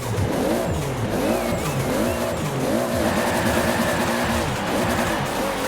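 A 1,200-horsepower Toyota Supra engine revs repeatedly in Forza Horizon 4, rising and falling bursts, loud and close, with a brief tire squeal, all in a simulated game-like sound.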